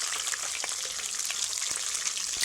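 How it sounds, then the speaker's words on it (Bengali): Fish heads fry in hot oil in a wok for muri ghonto, giving a steady, close hiss and sizzle dotted with small crackling pops throughout. "আরও তেলে ভাজা হবে মাছের মাথাটা"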